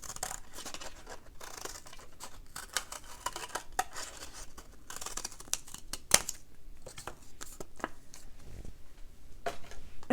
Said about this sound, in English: I can cut out my holly leaf